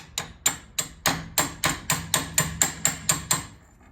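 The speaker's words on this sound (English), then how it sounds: "Just going to use this as a little hammer." Makeshift hammer tapping on a motorcycle brake pedal pad being fitted on a 2009 Police Special, about a dozen sharp, evenly spaced metallic knocks close by, steady rhythm with no voices.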